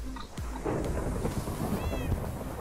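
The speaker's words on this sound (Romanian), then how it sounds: "Uite că tună. Iar a tunat, de ce?" Rumbling thunder crackles beneath a steady wash of rain in a Minecraft world, loud and close with a low sustained roll, while a short tonal creature-like call rises near the end.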